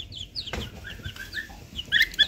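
Several chickens cheep and cluck in quick, high chirps, with a brief clunk early on; nearby and moderately loud.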